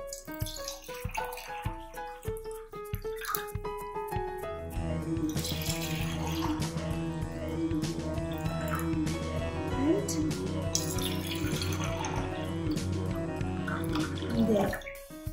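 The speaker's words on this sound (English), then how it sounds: "we are going to add water in our glasses" Water pours and trickles into glasses for a walking water science experiment, with splashing and dripping over a steady background of music-like tones.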